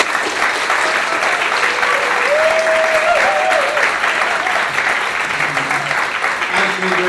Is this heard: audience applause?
yes